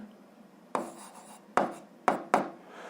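Handwriting an equation on a board, with four sharp tapping strokes and short scratchy scrapes between them, close and fairly quiet with no talking.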